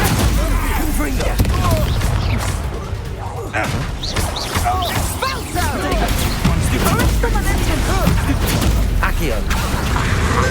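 Spell blasts and crashing impacts erupt in a dense, loud barrage of bangs and booms during Hogwarts Legacy combat, with a voice shouting over them throughout.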